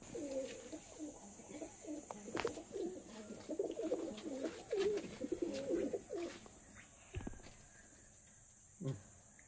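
Pigeons coo nearby in repeated low, throaty phrases, with a few faint clicks and a short coo near the end.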